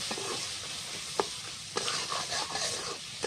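Lentils being stir-fried with turmeric in a pan for mung dal, ridge gourd and potato ghonto, a soft steady sizzle broken by a few scraping stirs, close and without talk.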